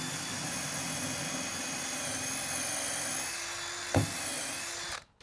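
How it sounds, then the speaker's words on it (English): A steady high-pitched motor whine runs without pause, like a drill spinning fast, then cuts off sharply near the end after a brief knock. "the drill will spin very fast."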